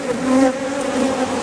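Honeybees hum steadily at an open hive with a brood chamber and honey boxes, a close, continuous buzzing drone with slight wavering swells and no talking.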